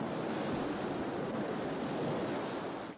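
Ocean surf washes steadily onto the sand at Coney Island beach, a continuous broadband roar of breaking waves with some wind, holding even for about three seconds before cutting off abruptly.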